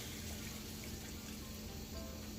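Water pouring steadily into a pan of browned taco beef with taco seasoning, a continuous splashing rush without pause.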